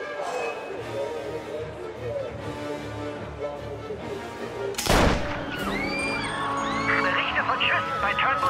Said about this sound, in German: Der Schuss kam vom alten Gefängnis.